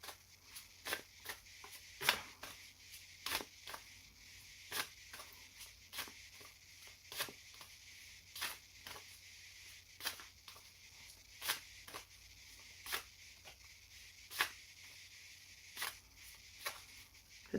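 Tarot-style astrology cards being shuffled by hand in a quiet room, a steady run of soft papery riffles and taps repeating every second or so, close and fairly quiet with no talking.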